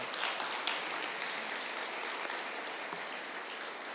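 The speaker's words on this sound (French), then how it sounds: "on peut applaudir le Seigneur" Applause from a church congregation praising the Lord after a pastor's sermon; dense, steady clapping that fills the room for the whole stretch, with no voices standing out.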